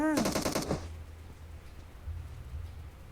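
Burst of rapid gunfire from a teammate shooting in a video game, loud and close for under a second, then fading into low rumbling game ambience.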